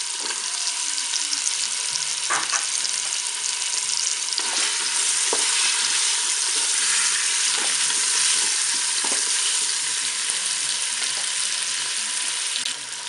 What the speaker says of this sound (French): je vais faire revenir mon rôti. Je vais ajouter mes oignons